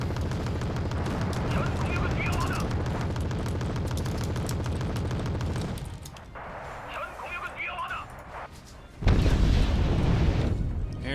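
Bomb explosions in the video game Wargame Red Dragon, heard as a dense, continuous roar of booming blasts that eases off briefly and then returns with a loud burst near the end.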